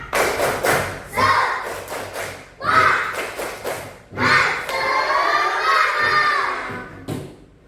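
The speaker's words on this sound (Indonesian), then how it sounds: "sebelum memulai pelajaran, kita tepuk semangat dulu ya" Schoolchildren in an Indonesian classroom perform a tepuk semangat clapping chant, with bursts of rhythmic group claps alternating with shouted chanting voices, loud and close, in several phrases.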